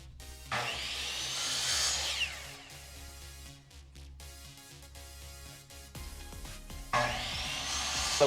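A saw cuts wooden dowels to equal length against a stop block in a workshop, with two rising, whining cutting passes separated by a lower steady motor hum and a rhythmic pulsing underneath.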